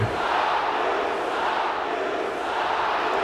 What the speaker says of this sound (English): Just the crowd chanting violently against Winnie-the-Pooh here.